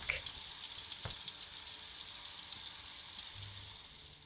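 Vegetable tempura bubbles and crackles in hot oil, a quiet steady frying hiss close by, broken by a single soft knock and a brief low rumble.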